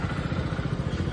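A kick-started motorcycle engine roars close by, a loud, dense and continuous mechanical rumble with a fast clattering pulse and no voices over it.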